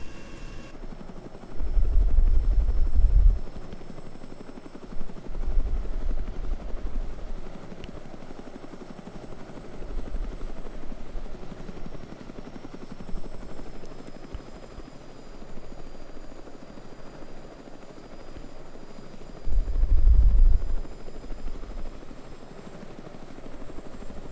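A Russian Mi-8 helicopter in Arma 3 flies with a steady, loud rotor and turbine drone over Chernarus airfield terrain, with periodic low thumping swells of rotor wash.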